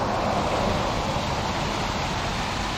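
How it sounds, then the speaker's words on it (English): A roadside waterfall near Beaver City in southern Utah gives a steady, even rush of falling water, a constant broadband hiss heard from a moderate distance with light wind noise and no talking. "just bringing us to this waterfall here"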